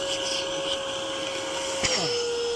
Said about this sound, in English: You can put it on the air setting and press start, and it's going to blow out of this.